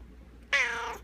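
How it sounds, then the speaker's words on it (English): A house cat gives one clear, drawn-out meow, close and loud against a quiet room, starting halfway through and trailing off after about half a second. "You're a very funny cat."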